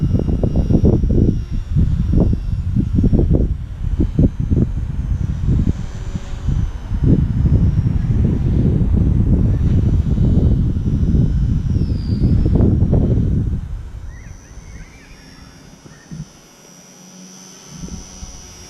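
Small mCPX BL2 micro RC helicopter flying outdoors on a breezy day, a steady high motor whine with buzzy rotor pulses that drops off near the end, leaving faint background.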